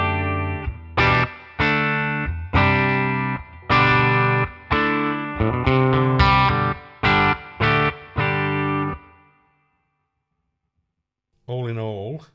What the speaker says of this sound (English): Let me just add a spring reverb to that,